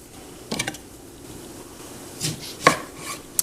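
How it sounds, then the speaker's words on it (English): A knife cuts lemons in half on a board, giving a few soft, separate chops and scrapes spread across a quiet kitchen background. "So I'm going to prepare my lemons by cutting them in half."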